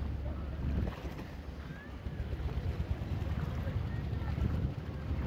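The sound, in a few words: fishing trawler moving at sea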